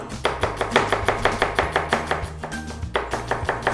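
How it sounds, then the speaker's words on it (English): A knife thinly slicing a whole onion on a chopping board for chicken fajitas, giving a steady, even run of crisp close cuts that pauses briefly before resuming. "So nice and thinly slice it"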